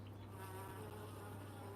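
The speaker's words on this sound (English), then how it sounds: "Worker bees do almost all the chores in the hive." Honey bees buzz inside a hive, a continuous faint droning hum of many wings without pauses or voices.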